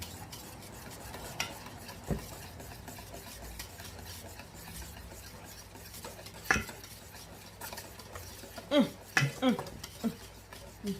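Condensed milk being stirred into a Thai-style sandwich dressing: a steady soft swishing with scattered light clinks of a utensil against the container, growing busier toward the end.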